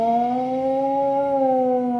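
A human voice imitates a camp alarm that sounds like a tsunami siren, producing a single steady, wavering howl that rises slightly and falls, held for about two seconds and heard alone.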